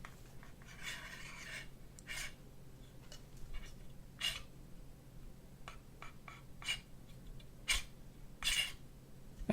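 A newly bought fan spins with a faint, steady whir, broken by irregular dry scratching and rasping bursts coming from inside its housing, quiet and close with no voices.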